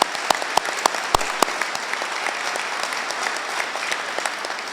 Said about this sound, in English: give me a quick round of applause for all of those gentlemen